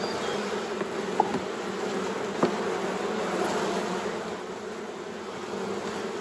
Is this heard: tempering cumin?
no